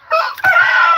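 A rooster in a neighborhood crows loudly and close, one sustained harmonic call broken by a brief catch before it carries on strongly to the end.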